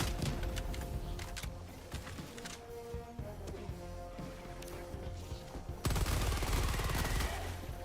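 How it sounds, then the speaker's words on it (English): A grenade launcher in Helldivers 2 fires amid a chaotic battle soundscape of continuous gunfire, explosions and crashes, with a heavier surge of blasts near the end. "This is just a grenade launcher."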